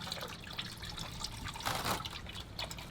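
Hot transmission fluid drains from a 2011 Subaru WRX in a steady close-up trickle, splashing and gurgling continuously into a container at moderate volume.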